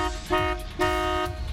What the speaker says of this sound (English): well then honk the horn